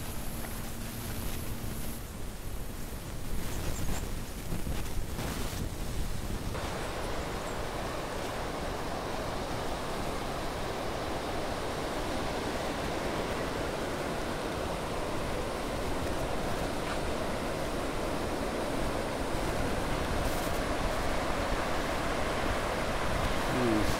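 Ocean surf on a large, deep beach in Australia, a continuous broad wash of waves heard steady and fairly faint throughout, with some wind noise near the start.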